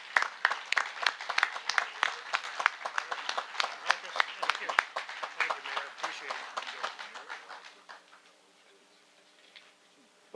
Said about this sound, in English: Let's give a round of applause to Jack Deasing as he brings us remarks.